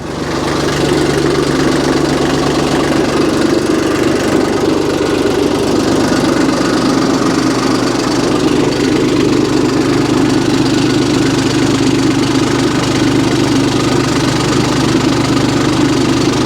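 A Kioti diesel engine in a Cushman side-by-side runs rough at idle, giving a loud, continuous knocking rumble up close without a break.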